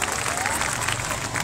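An audience applauds at a school program, dense steady clapping from a crowd, loud and close throughout the brief burst.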